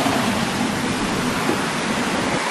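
A river flows beside a mountain hiking trail on Mount Salak near Bogor, West Java. The rushing water makes a dense, steady broadband roar that stays close and loud without a break.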